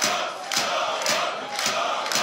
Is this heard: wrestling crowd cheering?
yes